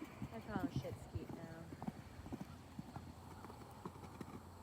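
A bay roan gelding lopes outdoors, giving a rhythmic three-beat clip-clop of hooves at moderate distance, while people talk over it and a horse briefly whinnies.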